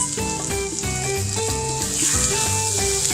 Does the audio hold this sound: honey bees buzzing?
no